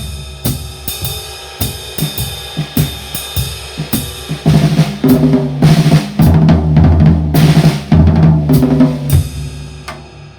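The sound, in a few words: five-stroke roll played on drum set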